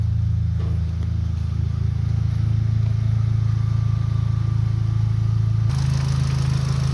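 A car engine idles steadily, a loud, even low drone close by throughout, with a slight change in tone near the end and no voices.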